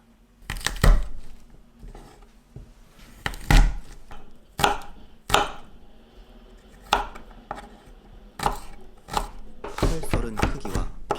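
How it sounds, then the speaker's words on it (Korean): Four garlic cloves chopped with a knife on a board: a dozen or so sharp, loud knocks in irregular clusters, close up, with no talk. "칼 썰은 크기와 비슷한 작은 크기로 마늘도 썰어줍니다."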